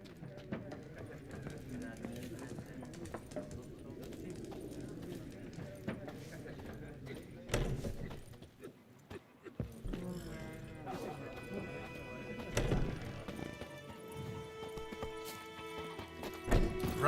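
Hooves of a horse galloping in The Witcher video game, a rapid, steady clip-clop that continues throughout, with voices talking over it and a few louder knocks and clatters later on.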